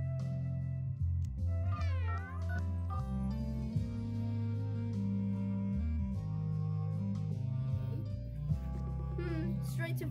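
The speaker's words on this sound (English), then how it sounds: "Meow. That's a cat." A cat meows in the game Homescapes over a steady bed of game music, with a few tonal chirps rising above it.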